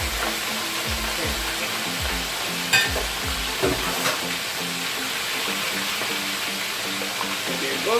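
Escovitch fish sauce sizzles and bubbles steadily in a pan for Jamaican-style escovitch fish, with stirring scrapes and a few louder clatters over the continuous frying hiss.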